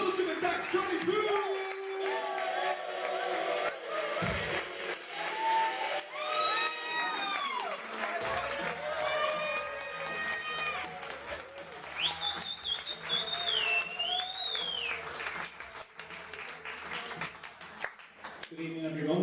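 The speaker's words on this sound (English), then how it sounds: "Keep that applause going, please!" Audience applause and cheering fill the background while whistles and tonal sounds rise over the crowd noise.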